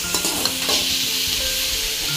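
Green chillies frying in oil in a pan, a dense, steady hiss of sizzling with light stirring taps near the start, close and continuous, no voices.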